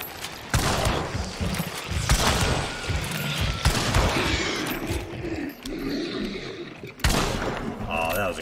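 Several gunshots ring out in Hunt: Showdown, sharp loud blasts spaced irregularly across the stretch with mechanical clatter between them, while players talk over the firing.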